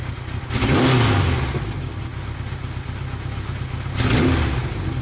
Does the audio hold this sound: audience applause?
no